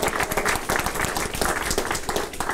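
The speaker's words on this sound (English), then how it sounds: "Just give them a round of applause." Dense, continuous applause from an audience at a press conference, many hands clapping close and loud throughout.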